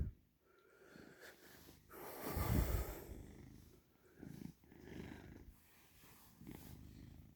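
A pet cat purrs while being stroked, with soft, steady close-up rumbling and breathy snorts, swelling louder for a moment midway, with no talking.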